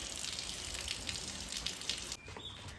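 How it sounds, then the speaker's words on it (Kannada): Water running steadily on a farm in Madikeri, a soft continuous flow with faint outdoor ambience, quietening slightly near the end. "ನೀಟಾಗಿ ಕರೆಕ್ಟಾಗಿ ಬಿಡುತ್ತೆ ನೀರು."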